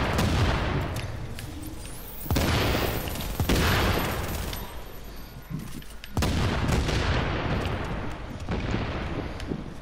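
Sustained gunfire in Tom Clancy's The Division, dense overlapping shots and booming impacts in several loud waves, with an MP7 mentioned, continuing throughout with little pause.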